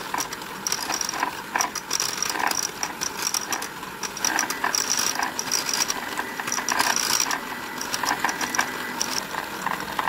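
An electric mixer whirs continuously with a gritty, rattling mechanical buzz, its beaters churning coconut cookie batter with vanilla steadily and close by.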